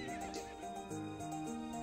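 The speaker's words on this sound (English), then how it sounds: "I wonder if Neil got off that horse yet." A horse neighs in the video game To The Moon, a bright, wavering whinny lasting under two seconds, up close and alone with no talk.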